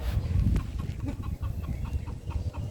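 A breeder hen on a hillside farm clucks in short, repeated bursts close by, mixed with low rustling and other chicken sounds in the background.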